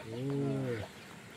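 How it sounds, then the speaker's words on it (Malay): A single chicken call rings out for under a second, drawn-out and tonal, from a flock of about 120 free-range chickens on a durian farm, with faint outdoor background noise after it. "120 ekor ayam. Nak buat free range ni di ladang Durian."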